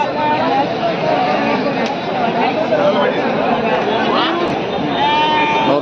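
Sheep and goats bleat over and over at a busy weekly livestock market, close and loud, with a crowd chattering steadily underneath.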